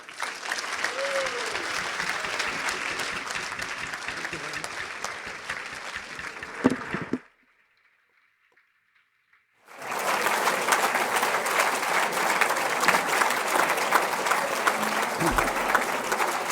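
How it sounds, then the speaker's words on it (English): An audience at a volunteer awards ceremony claps loudly and steadily, the applause cutting off into near silence for a few seconds before the crowd bursts into sustained clapping again. "Keep the applause going for Anne and Bob."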